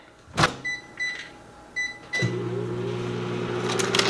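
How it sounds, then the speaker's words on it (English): Keypad beeps sound a few times, then a door clunks shut and a microwave oven starts up with a steady, close humming drone. "I'm going to put that in the microwave for 1 minute"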